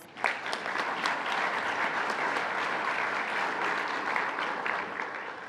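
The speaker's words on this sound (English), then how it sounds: "One more round of applause" A business expo audience gives award winners another round of applause, a dense steady wash of many hands clapping at moderate volume, alone and sustained throughout.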